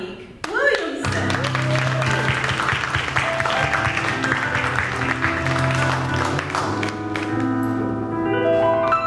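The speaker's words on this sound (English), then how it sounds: "give a huge round of applause for our speaker for this evening, Mr. Dominique Williamson." Loud, sustained applause for the evening's speaker fills a hall at a university humanitarian awards gala, holding steady for nearly nine seconds with some musical tones mixed in.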